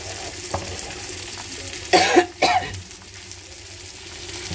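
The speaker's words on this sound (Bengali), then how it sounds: "তো দেখেন যে মাছ ভাজতে দিয়ে দিচ্ছি" Fish frying in a pan in a home kitchen, with a couple of short loud sizzling bursts near the middle over a low steady hum and faint background crackle.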